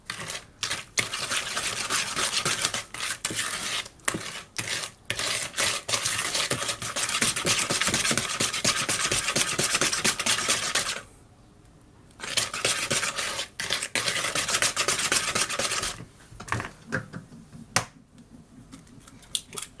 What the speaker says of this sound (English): give it a stir. This is the way I do mine, like this.